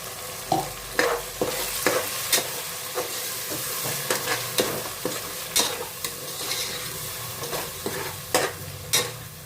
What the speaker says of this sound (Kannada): ಅದು ಸ್ವಲ್ಪ ಫ್ರೈ ಆಗಲಿ.